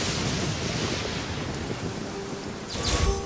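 Heavy downpour in the Genshin Impact world: a dense, steady hiss of pouring rain fills the whole stretch, with a low thunder rumble swelling near the end.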